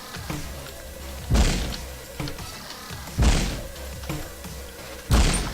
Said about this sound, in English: Let's toss in some bombs.